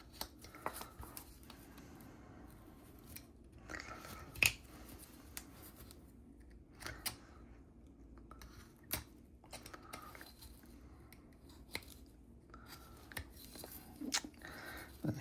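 Knife-only carving of a small wooden figure, taking down a raised corner with stop cuts: quiet, irregular clicks and snicks of the blade in wood over a soft room hiss, with a few sharper cuts standing out.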